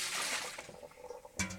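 Homemade washing detergent liquid is poured into a sink, a soft, close, splashing wash of liquid that runs steadily and then fades, ending with a brief sharper splash.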